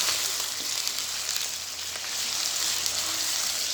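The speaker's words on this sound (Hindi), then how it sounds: "अब हम इसमें चिकन ऐड कर देंगे और मिक्स करेंगे इसको अच्छी तरह से" Chicken sizzles steadily in a pan with garlic and ginger, a continuous close, even frying hiss with no talk.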